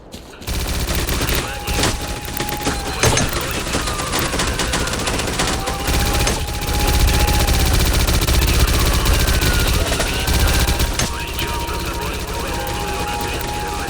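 Sustained gunfire at an army outpost in the video game STALKER Clear Sky, with dense automatic bursts and overlapping shots that stay loud and continuous throughout, while voices shout over the shooting.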